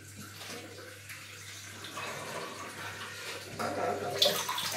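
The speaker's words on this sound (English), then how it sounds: "Let the water out the sink." Water drains out of a bathroom sink after shaving, a soft continuous gurgling rush close by that grows slightly louder toward the end.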